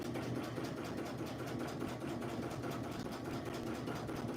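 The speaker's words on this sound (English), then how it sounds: "now we got away from it enough where we can back stitch" A sewing machine runs steadily while back stitching, its rapid mechanical needle chatter and motor hum continuous and close, with no one talking.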